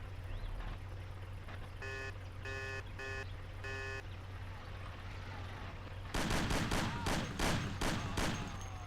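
Gunfire in the video game Mafia, a sudden burst of loud rapid shots that follows a stretch of engine drone and electronic beeps.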